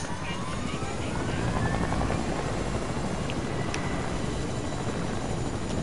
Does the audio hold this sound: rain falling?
no